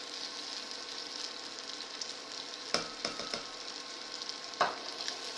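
Spices frying in hot oil in a pan for dahl and curried broccoli, a soft steady sizzle with a few sharp scraping stirs from a utensil, close and without speech.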